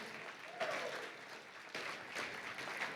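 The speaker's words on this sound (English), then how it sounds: "Let's give them another round of applause for being awesome." A keynote audience at Denver Startup Week gives a round of applause, a steady wash of many hands clapping at moderate level with slight swells, no talk over it.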